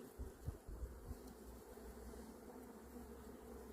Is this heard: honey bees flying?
yes